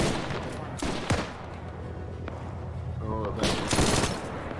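MG42 machine gun fire in the military game Arma 3, with bursts of rapid automatic fire and loud cracking shots, both near and farther off, under continuous radio chatter and talk.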